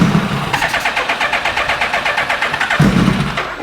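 The starter motor of a 2000 Suzuki Hayabusa motorcycle cranks the engine loudly and close up with a steady rapid chug, and the engine fails to catch, sounding like a faulty bike that will not fire.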